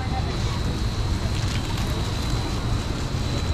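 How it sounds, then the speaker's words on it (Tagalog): Steady rain falls outdoors beside a large shopping mall, a dense even hiss with a low rumble that holds unbroken throughout, with voices faintly present in the background. "Umuulan na naman."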